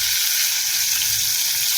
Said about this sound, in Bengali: তেলটা আমার গরম হয়ে গেছে, এরপর আমি এক এক করে মাছ ছাড়ব।